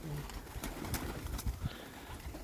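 Pigeons cooing softly in a loft, low repeated coos over a steady background hiss, with no clear talking.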